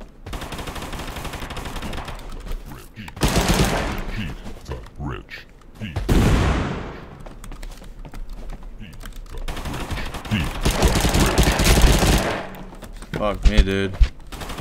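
Loud bursts of gunfire in the video game Totally Accurate Battlegrounds, several separate volleys of rapid shots across the stretch, with someone talking and swearing between them.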